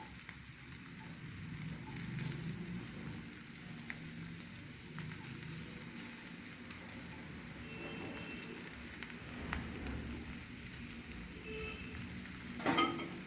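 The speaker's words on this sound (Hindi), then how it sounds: "देखिए मसाले हमारे भून गए हैं और इसमें ये आलू तोड़ के डाल देंगे इस तरह से।" Spices and broken potato pieces for a mirchi vada filling frying in a pan, a steady close sizzle with soft scraping stirs throughout and a brief clatter near the end.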